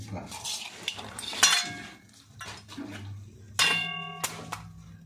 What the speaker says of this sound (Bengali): এইভাবেই কাঁকড়াগুলো ছাড়ানো যায়